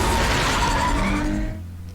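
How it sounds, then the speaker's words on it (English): Tires screech loudly in the Batman Telltale video game, a harsh sustained squeal with a rumbling low end that fades out over about two seconds. "Obnoxious car screeching noises."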